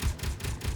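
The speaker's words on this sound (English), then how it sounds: "I can hear the clicking of the cannons as well." Empty cannons on a vehicle in the Space Engineers game click repeatedly after running out of ammunition, a quick regular series of dry mechanical ticks, about five per second, fairly close.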